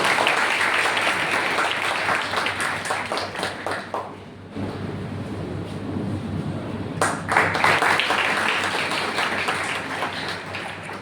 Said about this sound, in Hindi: चलिए तालियां बजाते हैं।